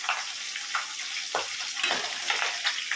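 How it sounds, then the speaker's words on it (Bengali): Catla fish frying in a pan gives a steady, close sizzle with crackling pops and a few sharper spits, continuous and fairly loud with no talk. "আর এদিকে কাতলা মাছটা ভাজা হচ্ছে"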